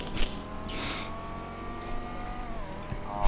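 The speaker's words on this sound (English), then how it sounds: "This car sounds so nice." A car engine in the video game Grand Theft Auto V hums steadily with a clear tonal drone, its pitch drifting and rising slightly as it revs, heard alone at moderate loudness.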